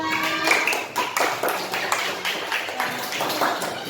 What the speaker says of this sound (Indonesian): tepuk tangan dulu buat Mas Evan